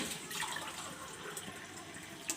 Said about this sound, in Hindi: इसमें 1 गिलास के करीब मैं पानी डाल रही हूँ